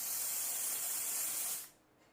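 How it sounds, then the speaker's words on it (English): An aerosol can spraying product in one steady, loud, close hiss lasting about a second and a half, then cutting off abruptly into near silence. "so I'm gonna spray some of this on"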